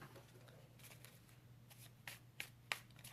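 Tarot cards being shuffled, a faint, soft riffling rustle with a few sharper snaps and clicks toward the end, close and quiet, with no voices.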